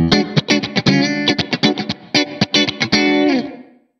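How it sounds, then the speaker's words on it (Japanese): A guitar played through a Strymon Cloudburst reverb pedal with raised pre-delay, giving a short slap-back echo to each note in a quick rhythmic run of plucked notes that ends in a brief tail. "ディレイのすごい短いスラップディレイを少しリバーブで表現したみたいな"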